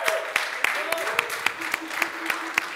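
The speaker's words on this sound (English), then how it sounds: "Let's give a hand clap to the Lord for that." A church congregation claps during a Sunday service, with a sparse, irregular pattern of individual hand claps under a continuous murmur of voices and talk.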